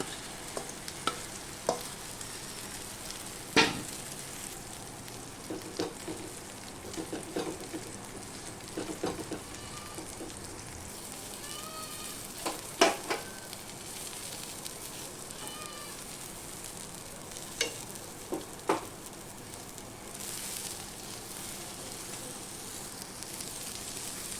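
Soybean and egg omelette pieces frying in oil, a soft continuous sizzle punctuated by sharp scraping and clinking of a spatula against the pan at irregular intervals.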